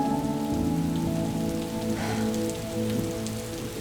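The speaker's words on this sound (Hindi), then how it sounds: "बारिश का शोर सुन रहे हैं?" Steady rain falls on surfaces in a drama scene, a dense continuous patter with soft background music tones underneath and no speech.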